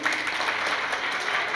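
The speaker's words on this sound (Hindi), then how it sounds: "जोरदार ताली बजाइए अपने लिए" Students in a classroom clap for themselves, a dense burst of many hands applauding steadily and fairly close throughout, with no talk over it.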